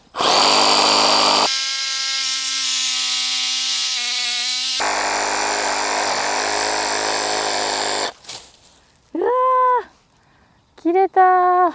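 A Makita 18V JR189DZ cordless reciprocating saw cuts through a thick piece, its loud steady motor buzz running with shifts in pitch for about eight seconds before stopping, after which people talk excitedly.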